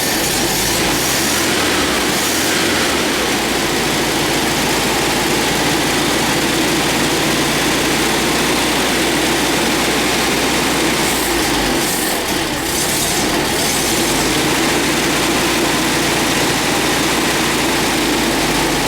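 A 1954 VW Beetle engine running steadily, a loud, continuous low rumble with a dense rattly texture that hardly changes from start to finish, and no voices.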